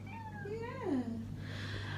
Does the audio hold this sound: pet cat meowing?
yes